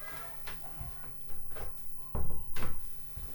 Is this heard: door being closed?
yes